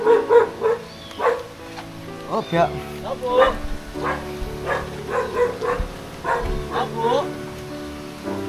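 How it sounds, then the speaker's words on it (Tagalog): A dog barks repeatedly in quick, rhythmic bursts outdoors near a gate, moderately loud, mixed with people talking and light rain pattering in the background. "Kasi baka nandiyan yung aso."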